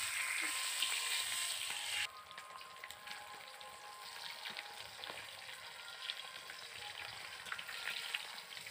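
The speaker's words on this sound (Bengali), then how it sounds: "মাছগুলো অর্ধেক ভাজা হয়ে গেছে," Half-cooked rupchanda fish pieces sizzle in hot oil with a continuous hiss and bubbling crackle. The sizzle starts louder and drops slightly after about two seconds, and there is no speech.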